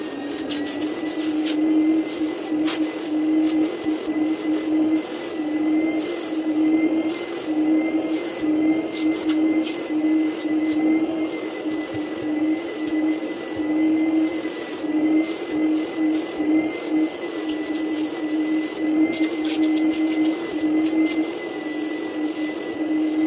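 A vacuum cleaner runs in Qatar, giving a steady, loud motor drone with a high whine that holds without a break for over twenty seconds. No one speaks over it.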